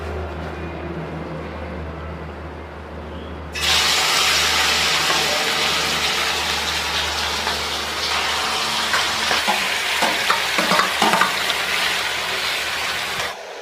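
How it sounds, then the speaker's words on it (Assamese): Marinated broiler chicken hits hot oil in a wok with a sudden loud burst of sizzling after a low hum, then a sustained crackling fry with occasional spatters, alone without talk. "তেল গৰম হৈছে। এতিয়া আমি মাংসটো প্ৰথমতে লৌৰাত দি দিম"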